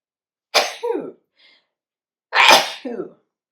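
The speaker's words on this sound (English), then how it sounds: "I'm gonna sneeze." Two sharp sneezes about two seconds apart, the first followed by a short breathy catch, the second louder and fuller, close to the listener.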